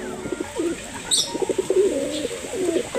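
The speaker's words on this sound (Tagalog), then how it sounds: "Ito po ang bagong anak ng ating foundation bird na si Jana Arden at Waterhouse Bicart." Imported pigeons coo softly in a loft, low rolling calls repeating close by, with a few faint chirps and light rustling around them.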